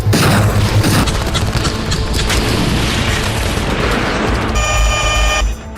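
Russian howitzer and Grad MLRS fire at Kursk: a very loud opening blast rolls straight into a long, dense rumble of overlapping booms, and a thin steady tone rises just before the noise cuts off.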